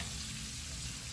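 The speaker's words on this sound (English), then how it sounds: "Sauteing doesn't take long." Shrimp sauté in a hot pan with a steady, close, even frying hiss that runs alone without pause or speech.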